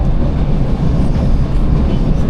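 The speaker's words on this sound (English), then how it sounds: "this is the express train" An express train in the Kurobe Gorge area near Nagano, Japan, a loud, steady rolling rumble of rail wagons heard up close throughout, with no talking.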